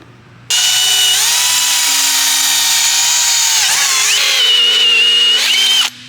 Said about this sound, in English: Now we gotta drill a hole.